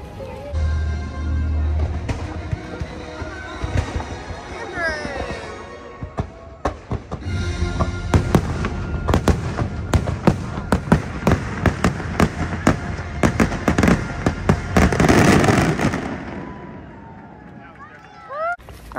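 A Disney fireworks show with dense crackling bursts and booming explosions that build to a loud, rapid finale, while nearby spectators talk throughout.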